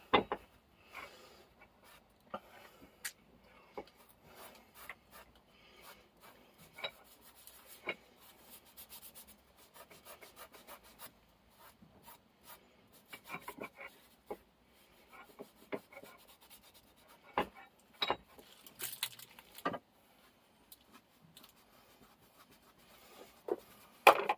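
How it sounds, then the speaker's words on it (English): Sponge scrubbing rust off an old metal record vice, a quiet, irregular rubbing and scraping with scattered sharp ticks, close and fairly faint, with no talking. "little sponge, old sponge. Just see if we can take any of that."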